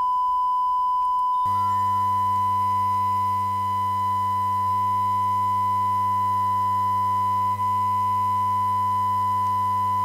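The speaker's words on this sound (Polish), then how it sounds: "Jak słyszycie, 1 kHz sinus leci teraz nam w tle." A steady 1 kHz sine test tone plays while a MacBook is being repaired, a pure unbroken whistle that runs continuously after a brief quiet start, with a constant low hum beneath it.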